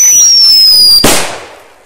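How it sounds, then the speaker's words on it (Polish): An I Love Skull whistling petard firecracker shrieks with a loud, slightly falling whistle for about a second, then bursts in a sharp bang that decays quickly. "Raczej sami widzieliście te złote iskry przy momencie pisku."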